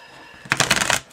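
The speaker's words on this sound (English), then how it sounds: "let me shuffle my decks" Card decks shuffled before laying out a crystal grid, one short, bright riffling burst after a quiet moment, close to the ear and fairly loud.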